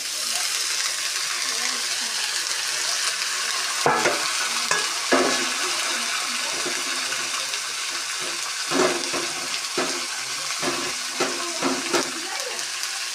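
Carrot and other vegetables are stir-fried in a pan for egg chowmein, a steady sizzle broken by scraping stirring strokes and clatter, close and alone without speech.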